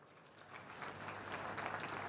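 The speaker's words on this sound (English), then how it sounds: "Please join me in welcoming them with a round of applause." A conference audience at Semicon India 2024 in Greater Noida applauds to welcome semiconductor industry leaders, a soft, distant, steady patter of clapping that swells slightly toward the end.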